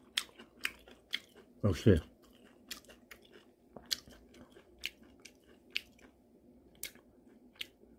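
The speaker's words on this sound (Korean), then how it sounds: "막장 찍어 먹는 것이" Close, moist chewing of wild rose shoots dipped in makjang, fermented soybean paste, with a louder crunchy bite run near the start and soft, regular chews after it, under brief speech.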